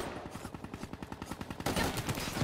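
Rapid automatic gunfire from a video game gun in a Call of Duty-style match, a steady stream of sharp shots that swells louder and denser toward the end, with no voices.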